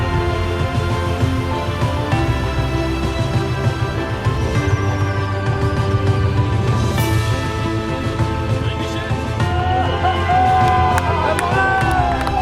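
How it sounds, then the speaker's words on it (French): A crowd of young people cheers and applauds in front of a high school, a steady, loud wash of clapping, whoops and babble with voices chattering throughout. "tu passes du monde qui t'attend, devant le lycée, des jeunes qui t'applaudissent"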